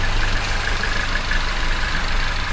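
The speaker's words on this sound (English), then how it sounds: "These are a 1600cc, so they're not a big engine" A 2012 Peugeot RCZ with a 1600cc engine idles at a Japanese car auction, giving a steady, even low hum with a faint higher whine, close and alone with no talking.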